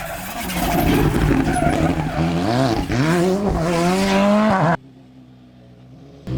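A rally car charges through a night stage of the British Rally Championship in Ceredigion, its engine revving hard and rising and falling through gears with tyre squeal, loud and close, before it cuts away abruptly to a quieter rumble.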